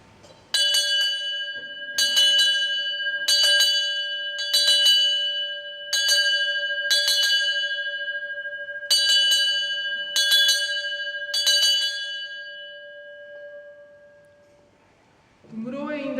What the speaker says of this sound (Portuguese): toquei o sino 9 vezes